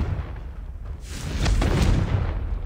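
Confringo fire spell cast in Hogwarts Legacy, a sudden whooshing burst that swells into a loud, rumbling blast lasting over a second, rising above steady game background noise.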